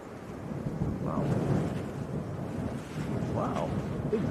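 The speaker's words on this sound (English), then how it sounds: "Big gust of wind all of a sudden." A sudden strong gust of wind sweeps across an open airport on a crosswind day, roaring steadily into the microphone for several seconds with a faint voice briefly underneath.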